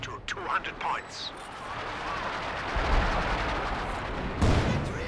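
Artillery barrage in Company of Heroes 2 during a 2v2 match, dense rumbling booms and crackling impacts rolling on continuously, with a heavier blast near the end and a commentator talking over the top.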